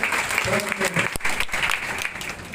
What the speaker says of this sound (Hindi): एक बार के सम्मान में जोरदार तालियां बजाकर